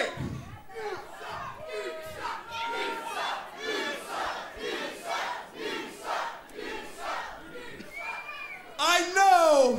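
At a wrestling show, an arena crowd chants and shouts in loud rhythmic surges, rising and falling in waves, before swelling into a bigger roar near the end.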